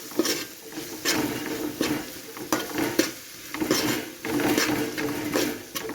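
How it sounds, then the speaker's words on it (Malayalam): Beef is stirred with turmeric, coriander and pepper powders in a pot for Kerala-style beef roast: a spoon scrapes and clinks against the metal under a steady sizzle, with no voices over it. "ഇനി എല്ലാം കൂടി ഇളക്കാം."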